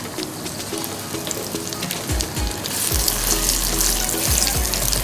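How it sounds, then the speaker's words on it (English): Coriander seeds and dried red chilies stir frying in a pan, a close, steady sizzle with scraping stirs that grows louder partway through as more spices hit the hot oil, with no talking. "Now to this we add 8 red dried chilies."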